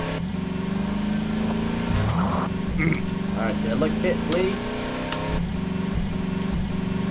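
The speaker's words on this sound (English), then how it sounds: "Did you hear the car to me?" A car engine in the co-op game Half-Life 2 Synergy hums steadily under continuous talk, with a low droning tone throughout and brief revving swells.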